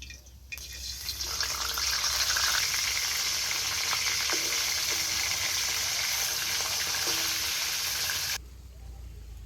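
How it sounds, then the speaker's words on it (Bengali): Shol fish frying in oil, a loud, continuous close-up sizzle that swells in suddenly and holds steady for about eight seconds before cutting off abruptly. "মাছ আমার ভাজা হয়ে গিয়েছে"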